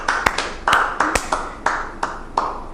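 Scattered hand claps from a small group at a school parents' gathering, about eight sharp claps spread unevenly over a few seconds, fairly close and with no talking.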